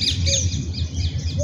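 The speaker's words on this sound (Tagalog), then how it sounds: "Ayun mga ibon." Birds squawking and chirping outdoors in a repeated rhythm of short calls, fairly close and clear over a low steady background hum.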